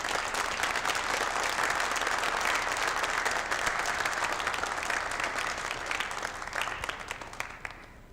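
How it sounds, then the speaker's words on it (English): A roomful of people at a school board's inaugural organizational meeting give the board a sustained round of applause, dense clapping that holds steady and then thins out toward the end. "give the whole board one last round of applause"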